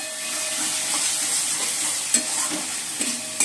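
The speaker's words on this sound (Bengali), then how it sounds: "মাছের ডিমগুলোকে ভেজে নিয়েছি এবং মশলাটা কষে নিচ্ছি" Spices being stir-fried in a pan after fish roe was fried, a steady bright sizzle with a few scraping stirs of the spatula, close and continuous.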